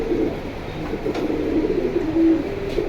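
Pigeons at a pigeon sale in Jinjira market coo in soft, repeated low calls close by, over a murmur of market background noise, with no voices clearly heard.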